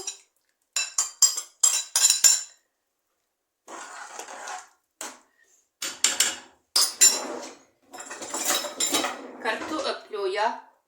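Cooked potatoes and beans are mashed gently in a soup pot, with a utensil knocking and clinking against the metal in quick irregular bursts between short silences.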